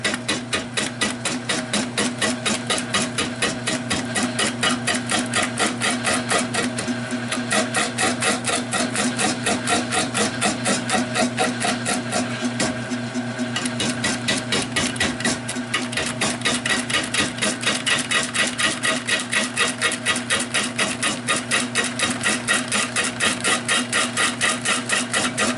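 Wood lathe spinning a rotted white oak bowl at around 300 RPM, giving a steady, loud, rapidly pulsing mechanical whir with a rhythmic scraping texture that runs continuously without talk.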